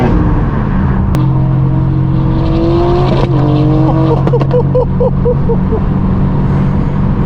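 A straight-piped BMW M4 G82 with an unlocked ECU revs loudly nearby, its raw exhaust note climbing and falling through several sharp blips over a constant road rumble.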